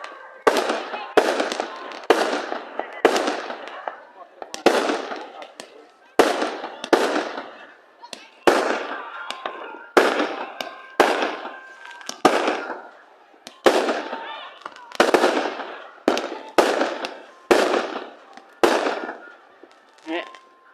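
Fourth of July fireworks crack and pop in a rapid, irregular string of sharp bursts, each like a gunshot, fading into crackle, repeating steadily for about twenty seconds at moderate distance, with voices talking underneath.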